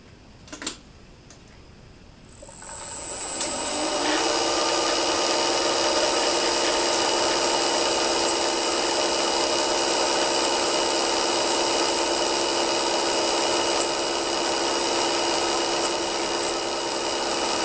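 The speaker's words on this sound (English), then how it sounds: "this is first crack with the motor bearings and the spindle pulley bearings" A milling head's spindle motor and pulley bearings start up after a few faint clicks, spinning up to full speed at 4,250 RPM and settling into a steady, loud whirring hum with a high whine that runs on evenly.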